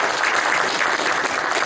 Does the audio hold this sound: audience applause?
yes